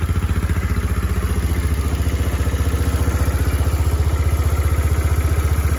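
A Kawasaki KLF Bayou 300 ATV engine runs after a carburettor fix, a loud, close, even chugging that keeps a steady rhythm throughout, with no talking.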